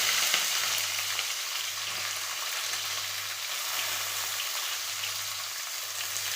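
Two onions frying in oil with green chillies and curry leaves, an even, continuous sizzle heard close up, with faint stirring and a low hum underneath.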